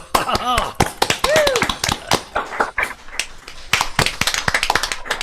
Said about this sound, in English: I shouldn't be clapping as a vegetarian